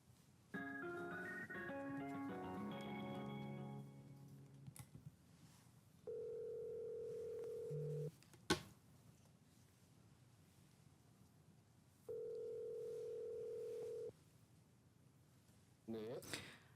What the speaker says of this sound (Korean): 저희가 전화 연결을 좀 한번 해보도록 하겠습니다.